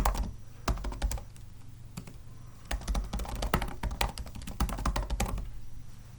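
Rapid bursts of close keystrokes on a computer keyboard as an email address is entered into an online registration form, clicking in quick irregular runs with short pauses.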